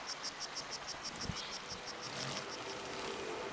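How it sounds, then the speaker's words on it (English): Cicadas chirp in the video game A Letter to the Future, a steady train of evenly spaced, high buzzing pulses over a dense, hissy outdoor ambience, fairly faint and with no one speaking. "Are you stealing cicada sounds?"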